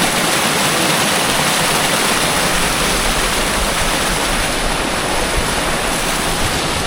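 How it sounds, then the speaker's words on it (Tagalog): Water flows strongly through a channel on a farm lot, a loud, constant rushing roar like a small waterfall, steady throughout with no voices. "Dito dumadaan mismo yung tubig"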